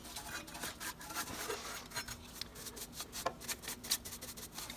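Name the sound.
brush sweeping ash inside a wood stove firebox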